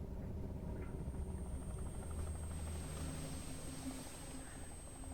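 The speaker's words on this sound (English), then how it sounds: "And there goes the helicopter." Helicopter in a video game flying off after an oil rig is destroyed, a steady broadband rotor and engine drone holding at a constant level throughout, with a thin high whine above it.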